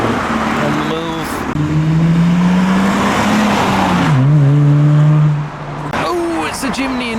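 A yellow Mr. Tool tuner car, called the banana car, drives into a car meet. Its engine revs and drones close by with rising and falling pitch, swells loud, then eases off as another vehicle follows.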